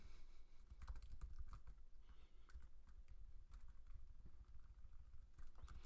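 Soft, continuous typing on a computer keyboard while writing web page code, a steady patter of quiet key clicks under a faint background hum.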